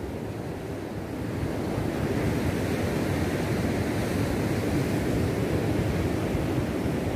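Cold wind sweeps across Praia do Ervino beach in Santa Catarina as a constant, dense roar blended with surf. It rises slightly in the first seconds, then holds steady and loud, with no voices.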